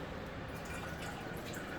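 Water is poured into a mashed potato mixture for a shepherd's pie, a steady soft trickling and splashing that stays quiet and even throughout.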